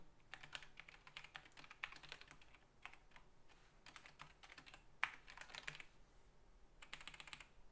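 Rapid bursts of typing on a computer keyboard during a programming session, crisp clustered keystrokes with short pauses between runs, close and clear with no talking.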